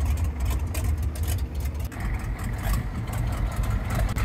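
A 1984 International S1600 truck's diesel engine with straight pipe stacks idles close by with a low, uneven rumble and a rough, irregular pulse that hints at a misfire.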